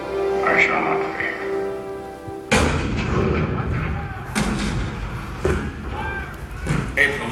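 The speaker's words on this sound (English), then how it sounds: "The cannon spoke for war, bitter, violent, and devastating." Cannon fire at the bombardment of Fort Sumter in 1861: a sudden heavy blast cuts in after a sustained tone, then further loud booms and rumbling explosions follow at irregular intervals.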